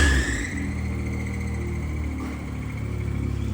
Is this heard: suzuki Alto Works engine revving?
yes